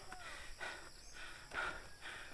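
Heavy breathing of a person hiking up a mountain trail toward the Kabayunan creeping-plant site in Bulacan, with two or three close, rasping breath bursts rising and falling at a slow, labored pace.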